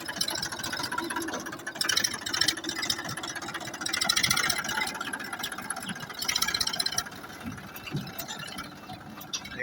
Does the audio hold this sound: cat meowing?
no